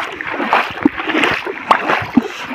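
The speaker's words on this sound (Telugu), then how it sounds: "శబ్దం చేస్తున్నారు నీళ్ళకి." People in the Penna river splash the water, a close rhythm of sloshing with a few sharper splashes standing out every second or so, and faint voices speak in the background.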